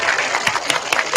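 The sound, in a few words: applause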